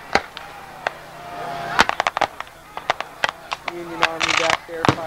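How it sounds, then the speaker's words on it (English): Black-powder musket fire at a 1998 Gettysburg Civil War reenactment in a forest, a scattered series of sharp cracks, some near and loud, others farther off, spread irregularly through the stretch with voices underneath. "Union Army back there firing. Rebels firing."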